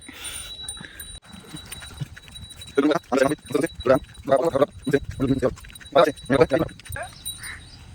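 Bullocks being led out in the morning toward water, their hooves clopping in a steady walking rhythm at close range while people talk nearby.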